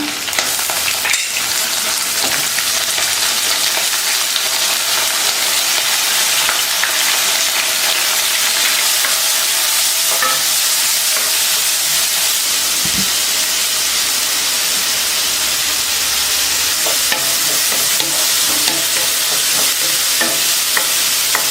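Onions fry with green chillies and garlic in a pan for tomato gojju, a loud, continuous close hissing sizzle with scraping stirs running throughout and no talking.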